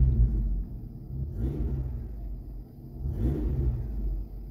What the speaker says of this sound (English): I don't know if you can hear the truck running.